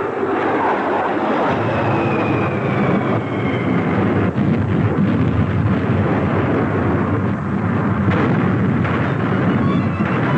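Russian military artillery firing during a combat training exercise, a continuous dense roar of guns and blasts filling the scene, loud and sustained throughout with no speech.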